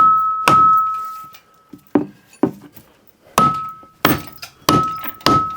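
Several heavy hammer blows strike a steam engine part nut to loosen it in a workshop, each a sharp metallic clang with a lingering ringing tone, spaced irregularly and coming faster toward the end.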